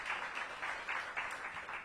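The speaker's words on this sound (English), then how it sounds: "let's give her a big round of applause" A room of seniors at the Hattie Holmes Senior Center applauds a councilmember, a soft, fairly distant patter of many hands clapping, steady and unbroken with no voices.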